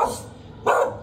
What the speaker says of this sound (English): What dog is this?